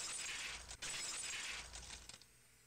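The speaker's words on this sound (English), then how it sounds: "The unpleasant, piercing sound of shattered glass" Glass shatters in the Higurashi visual novel video game, with bright, piercing breaking and tinkling bursts over about two seconds. The shards then crunch and settle more faintly.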